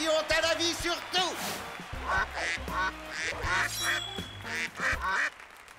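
Three cartoon ducks quack in quick, overlapping bursts, loud and close, with a nasal honking quality throughout.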